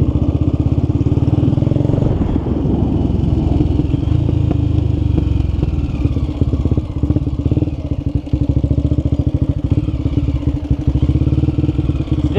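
A Honda Twister motorcycle engine runs close and loud, revving repeatedly with a rough pulsing rattle as the throttle rises and falls during clutch and throttle practice for wheelies.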